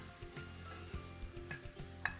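Chicken breast pieces go into a pan of curry sauce and sizzle steadily, with occasional clinks from stirring, and no voices are heard.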